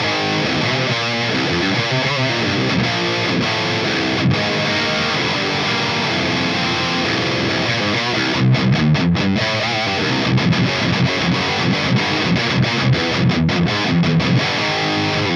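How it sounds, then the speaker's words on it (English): An electric guitar runs straight into a Brunetti Extra Lead high-gain amp with no boost, giving a thick, dense, saturated distorted tone, with chugging riffs and sustained chords played loud and continuous with no talking. "So I want to start with the Brunetti Extra Lead, which is a great sounding middle of the road high gain amp."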